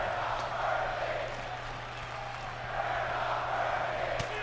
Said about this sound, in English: the crowd's saying you ain't working, Drew McIntyre